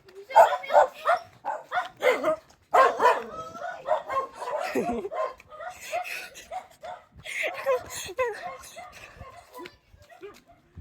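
Several dogs barking and yipping close by in quick, overlapping bursts, some whimpering between barks.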